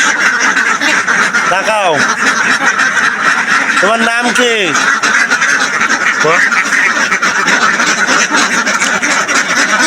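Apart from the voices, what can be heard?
ducks quacking while being fed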